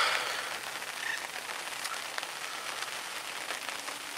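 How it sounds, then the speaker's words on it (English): Steady rain patters down at a fishing lake in a soft, continuous hiss with scattered drops tapping nearby surfaces. "as you might be able to hear as well, the rain has just started"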